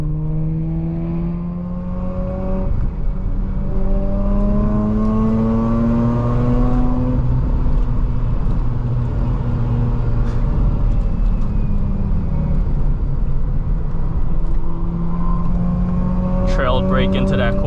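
A Mazda RX8 drives a morning mountain road, its engine note steady and loud up close, pitch rising and falling in long sweeps as it accelerates and eases through turns, with a brief high squeal near the end.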